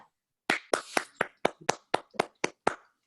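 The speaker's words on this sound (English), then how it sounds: "If you're unmuted, you can clap." About ten separate hand claps from a participant at an online meeting, close and crisp, spaced at an even brisk pace over a couple of seconds, with silence before and no talking.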